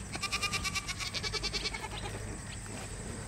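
Goats on a farm bleat close by in a rapid, wavering series of calls that fade into quieter background noise after a couple of seconds.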